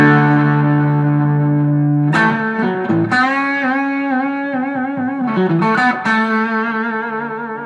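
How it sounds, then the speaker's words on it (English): Loud, heavily distorted electric guitar through a cranked tube amp, sustained chords and bends ringing out with some reverb, no voices. "this is what happens when you crank a tube amp"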